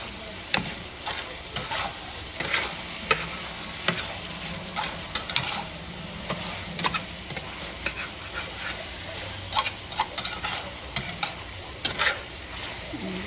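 Shrimp and vegetables being stir-fried in a pan for a Filipino shrimp with tomato and pinakbet dish, with steady sizzling and frequent clinks and scrapes of a utensil stirring, close by and without talk.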